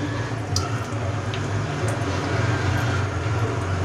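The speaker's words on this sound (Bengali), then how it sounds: "তো দেখো এই চালটা এবার ধুয়ে নিচ্ছি ভালো করে জল দিয়ে" Gobindobhog rice being washed by hand in water, a steady close wet swishing and squishing with faint drips, continuous and without talk.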